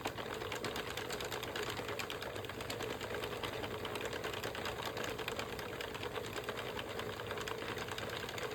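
A domestic knitting machine carriage runs back and forth knitting rows of yarn, a steady mechanical clatter and whir that continues throughout without pause.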